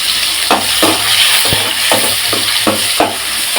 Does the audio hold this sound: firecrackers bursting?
no